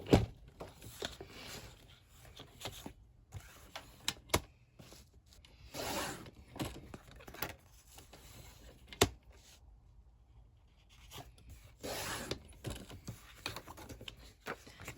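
Paper being cut with scissors for a junk journal cover piece, a series of brisk snipping and rustling bursts with pauses between, close up and without talk.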